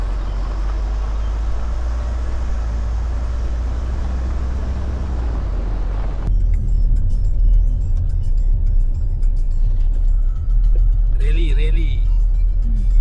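Kia Sorento AWD rolling along a red dirt road through a plantation, a steady low engine and tyre rumble with a rougher surface texture in the first half, people chatting inside the cabin over it.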